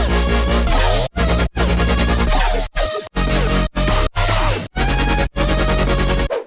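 Future bass synth layers playing together in a dense, loud wall of chords and bass, rhythmically ducked with brief sharp dropouts, with wobbling lead lines and pitch bends over the top.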